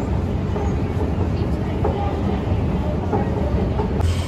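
A loud, steady rumble of a metro train running between stations, heard from inside the car, with dense low-frequency roar and faint rail clatter throughout.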